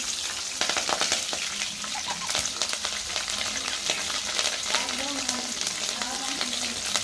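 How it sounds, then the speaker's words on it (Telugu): Curry leaves with dried and green chillies hit hot oil in a village kitchen, giving a dense, loud sizzle with sputtering crackles and stirring noises. A faint voice may murmur underneath. "అదేవిధంగా కరివేపాకు, ఎండుమిరపకాయలు, పచ్చిమిర్చి కూడా వేసేస్తున్నాను."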